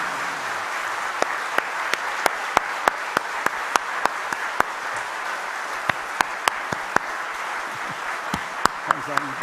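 A church congregation at a Sunday worship service applauds four musicians, a steady wash of clapping punctuated by sharp, loud individual claps close by.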